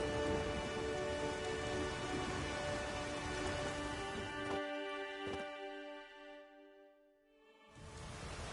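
Rain pours down in the video game The Witcher 3, a dense hissing wash, while music or ambient tones sustain over it; the rain briefly drops out near the end before returning.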